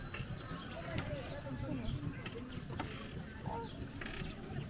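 Horse hooves clip-clop at a steady walking pace on a tour through Legazpi City, Albay, mixed with lively outdoor ambience while people talk over it throughout.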